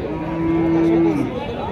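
At a livestock market in Alamdanga, Chuadanga, a dairy cow gives one loud, close, drawn-out moo over quiet market background noise.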